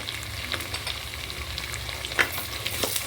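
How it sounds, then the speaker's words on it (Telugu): Cashews and almonds fry in a pan for millet and moringa-leaf khichdi, with a continuous close sizzle and occasional sharp stirring clicks, and no one talking. "జీడిపప్పు బాదం పప్పు గోల్డ్ కలర్ వచ్చే వరకు బాగా ఫ్రై చేసుకోవాలి."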